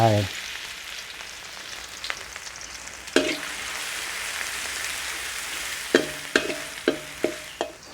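Garlic hits hot vegetable oil with a bright, crackling sizzle, and a few sharp knocks of a utensil against the pan punctuate the frying, clustering toward the end.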